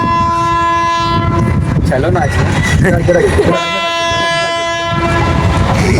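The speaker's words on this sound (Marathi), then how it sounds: "वंदे भारत आली वंदे भारत." A Vande Bharat express train rolls in nearby with steady loud rumble and a long sustained horn blast at the start and again later, while people talk excitedly over it.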